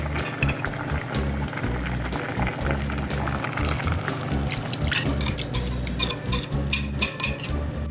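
Liquid pours steadily into a pot, a continuous splashing fill over a low background hum, with a few light clinks of utensils.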